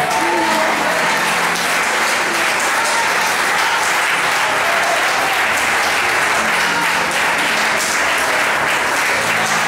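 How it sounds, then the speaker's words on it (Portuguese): A church congregation applauds during an evening worship service, dense steady clapping filling the room at full volume throughout, with faint voices mixed beneath. "Se você crê, aplauda o Senhor nesta noite."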